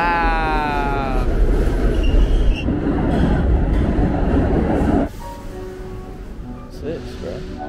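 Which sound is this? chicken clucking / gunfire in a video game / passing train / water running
passing train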